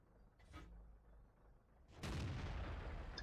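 An E50M tank fires its cannon in World of Tanks, a sudden loud broadband blast that sustains as a rumbling roar after a quieter distant thump, with no talk.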